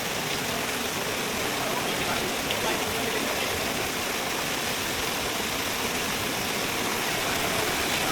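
Water runs and drips over rocks inside a gorge at Tutulari Avatar Gorge in Pampanga, a steady, dense rushing wash with no pauses, close and constant throughout.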